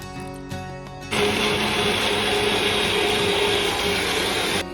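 An electric mixer roars steadily at high speed, churning cream with added cold water into butter for ghee; after a brief lower-pitched start it jumps into a loud, continuous whirring drone that stops abruptly at the end.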